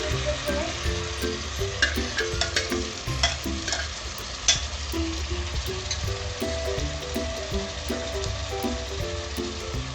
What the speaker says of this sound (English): stir it really well and saute it for another 15 minutes in the same flame, medium to high flame